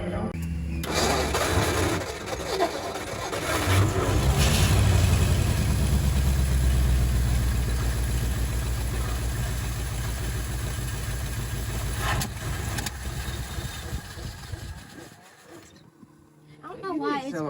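A 1956 Ford Fairlane with the 292 V8 idles close by, a steady, low rumbling drone that swells early, holds level, then drops away near the end.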